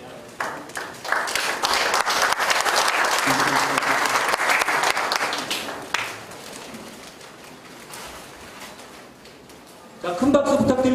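Loud, dense audience applause at a building completion ceremony in Icheon as plaques are presented, swelling for several seconds then thinning to scattered claps before a voice speaks over a sound system near the end.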